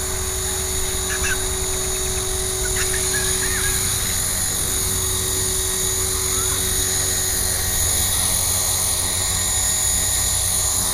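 An RC helicopter flies over long grass with a loud, steady, close rotor and motor drone and a constant high whine that holds without a break throughout, with faint birdsong behind it.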